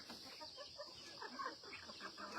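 Chickens clucking softly on a farm in Gumban, a steady mix of overlapping fowl calls against a constant background hiss, moderately close and continuous.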